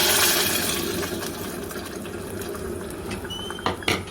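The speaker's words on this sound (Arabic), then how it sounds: "هنزل عليه بقى بالصلصه بتاعتي" Tomato sauce pours onto fried onion and garlic in a pot with a loud hissing splatter that gradually settles into a steady sizzle, followed by a couple of light clinks near the end.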